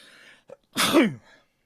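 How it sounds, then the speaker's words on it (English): A single sharp human sneeze, close and fairly loud, preceded by a short intake of breath, with near silence around it. "Sorry about the sneeze."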